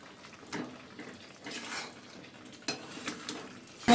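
Spice paste for vegetarian aloo dum frying in oil, soft sizzling with a spoon stirring and scraping the pan in intermittent bursts, close and quiet.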